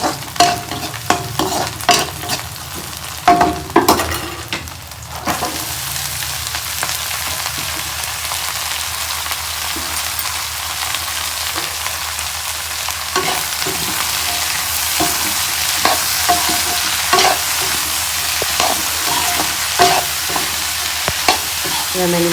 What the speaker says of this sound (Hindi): मैंने तेल डाल के मिर्ची डाला है, उसके बाद प्याज डाला है